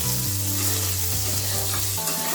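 Radish and radish stalks fry in hot mustard-seasoned oil, giving a loud, dense sizzle that holds steady throughout, close and continuous, with background music underneath.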